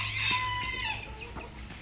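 Chicken clucking in a short run of throaty calls, fairly close and moderately loud over a steady low background hum.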